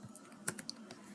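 Computer keyboard typing while filling in an online visa application form: a few quiet, scattered key clicks over a faint room hum, with one slightly sharper cluster near the middle and no talking.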